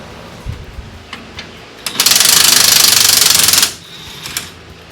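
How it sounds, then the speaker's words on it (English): An impact wrench rattling U-bolt nuts off the leaf spring of a 1st gen Toyota Tacoma, a loud continuous burst of hammering for over a second, framed by scattered metallic clinks. "now it's time to remove our 4 U-bolts."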